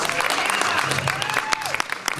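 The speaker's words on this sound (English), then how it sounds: "Let's have another big round of applause for Mike Ramsey" An audience at a live stand-up comedy show claps and cheers for Mike Ramsey, a fairly close, steady burst of applause with some voices and whoops mixed in.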